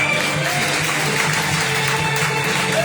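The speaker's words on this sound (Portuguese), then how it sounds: "Dê uma salva de palmas." A church congregation applauds through a service, a steady broad wash of clapping that holds at an even level from start to finish with no voices on top.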